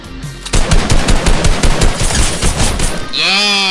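Rapid automatic gunfire in the Fortnite video game, a loud sustained burst of shots lasting a few seconds, followed by an electronic tonal game effect.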